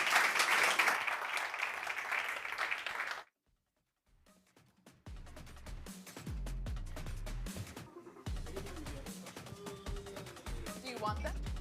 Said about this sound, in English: And you guys give him another round of applause.